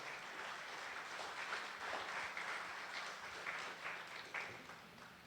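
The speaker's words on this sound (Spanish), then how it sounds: "Dele ese aplauso a Jesús" A church congregation gives a round of applause to Jesus during a Spanish-language sermon, a steady wash of many hands clapping at moderate distance that rises and dips over several seconds.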